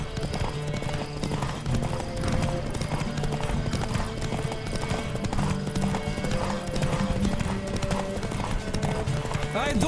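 Rapid hoofbeats of a horse galloping in the video game The Witcher 3, steady clip-clop rhythm with music and occasional voices over it.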